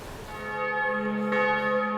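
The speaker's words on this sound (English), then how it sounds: "Gosh, the bells won't quit ringing." Church bells ringing in Salzburg, a sustained, loud, resonant peal with layered ringing tones carrying on continuously and alone.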